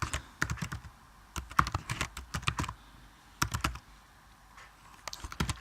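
Code being typed on a computer keyboard: rapid clusters of crisp, close key clicks in irregular bursts with short pauses between, with no talking.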